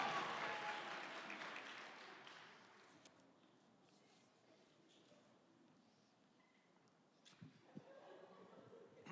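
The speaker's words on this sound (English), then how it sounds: "Let's give him a round of applause." An audience at a college student panel claps for a speaker, a burst of applause that is loudest at the start and fades within a few seconds to a quiet room with small scattered noises.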